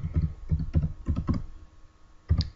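Keys clatter up close as someone types on a computer keyboard, entering a line of Python code. Short bursts of clicks are followed by a brief pause, then a final pair of keystrokes.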